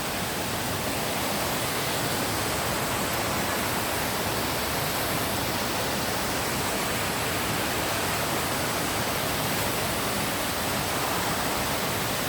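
Loud, steady rushing water around a swimming pool where a child dives and plays, a dense broadband roar that holds unbroken throughout with no clear voices.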